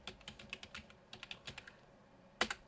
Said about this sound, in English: I'm gonna type in my my EA tag.